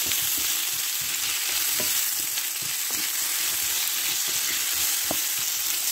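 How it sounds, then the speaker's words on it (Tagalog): Sliced apple and onion frying in a pan with pork, a constant bright sizzle broken by scattered stirring clicks and scrapes, close up with no talking. "ilagay na natin yung apple at saka onion o sibuyas"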